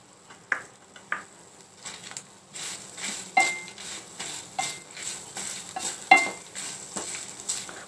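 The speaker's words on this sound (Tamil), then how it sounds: "நல்லா செவக்க வறுக்கணும்." Shallots and coconut roast in coconut oil under a faint sizzle, while a spoon scrapes and clinks against the pan in irregular, separate strokes; no voices.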